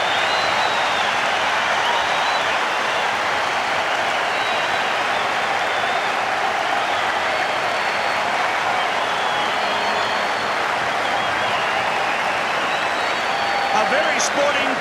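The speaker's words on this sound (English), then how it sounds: "A very sporting crowd at Eden Park applauds loud and long for that try by Christian Stewart." Rugby crowd at Eden Park applauds a try in a 1995 match, a long, loud, continuous roar of clapping from a large stadium audience, with a commentator's voice running beneath it.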